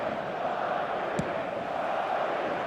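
Steady roar of a stadium crowd in eFootball 2026, a dense broad wash of massed voices holding at an even level, with one brief sharp sound partway through.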